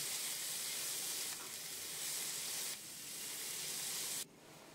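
Onions frying in hot oil for a thin chicken curry give a steady, close sizzle that runs alone throughout, dipping slightly twice and dropping quieter near the end.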